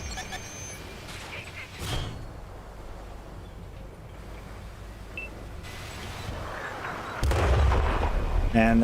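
Artillery shells explode in the tank battle game Tanks Reforged: a muffled boom early on and a heavier rumbling blast near the end, over a steady low engine drone and game noise.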